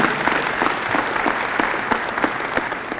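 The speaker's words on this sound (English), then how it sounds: "would you please give them a round of applause, thanking them for the beautiful music" Audience applause thanking the Illinois Philharmonic Orchestra after its performance at a Festival of Trees event, a loud, dense burst of clapping from a large crowd with distinct sharp claps standing out, continuing steadily for three seconds.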